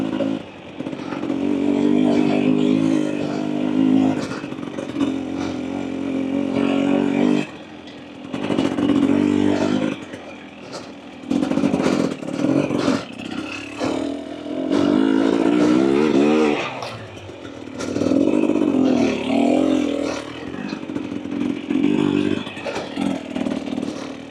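A 2024 Husqvarna TE250 TBI dirt bike with an FMF Turbine Core 2.1 exhaust revs repeatedly up close, loud raspy bursts rising and falling with short drops between throttle blips, no talking.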